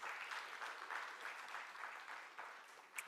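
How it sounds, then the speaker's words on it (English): Faint, distant applause from a crowd at a secondary school mental math competition continues for a few seconds, with a brief sharper sound near the end. "Give them another round of applause."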